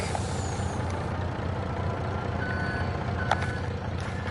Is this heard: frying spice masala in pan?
no